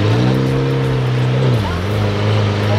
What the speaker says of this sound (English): we have James in the Aventador, and this thing is just unbelievably loud